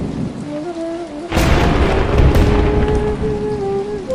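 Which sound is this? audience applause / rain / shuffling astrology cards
rain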